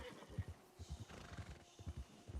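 A horse whinnies and snorts restlessly, with repeated low hoof thuds and clip-clop steps close by in a quiet setting.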